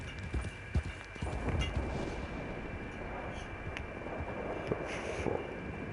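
Horse hooves clip-clop irregularly while riding downhill along an outdoor trail in Austria, with wind buffeting the microphone and occasional sharp thuds mixed in.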